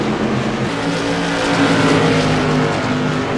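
Light modified race cars roar around Martinsville Speedway through turns three and four, a loud, continuous engine drone that swells slightly as the pack passes.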